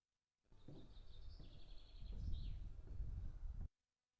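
Birds chirp and sing faintly in woodland on the walk up toward the Pinetum, thin high calls over a rustling, shuffling bed of footsteps, with no talking.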